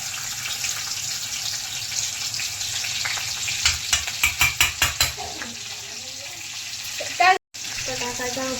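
Garlic and chili frying in a kadai of oil while making pasta at home, a steady sizzle with a run of sharp rhythmic scraping stirs, a brief clatter near the end.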